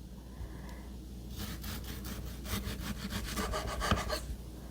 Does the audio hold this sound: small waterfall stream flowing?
no